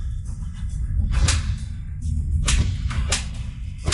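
A man slaps his own face repeatedly as punishment, sharp whip-like smacks landing at irregular intervals over a low background rumble, loud and close.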